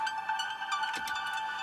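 A third synth plugin layer adds bright, airy high-register tones over a sustained chordal pad, with a few soft swelling accents and a brief lower swoop in the middle, steady and fairly full throughout.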